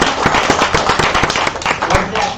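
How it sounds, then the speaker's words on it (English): Round of applause from the audience at a Philly game mechanics meetup show-and-tell, dense crackling claps filling the room loudly and steadily throughout, with a few voices mixed in. "We'll give him a round of applause, though."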